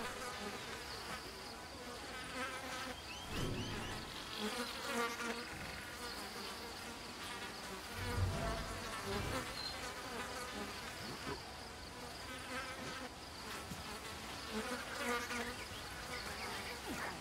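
Steady swarm of bees buzzing in the video game Ancestors: The Humankind Odyssey, a continuous dense drone with faint fluttering variations, held at a low, even level throughout.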